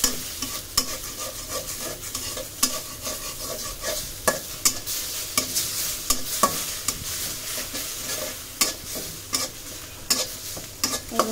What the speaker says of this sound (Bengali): আমি দুটা ডিমই দিয়ে দিচ্ছি